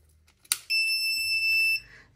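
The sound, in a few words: soup maker beeping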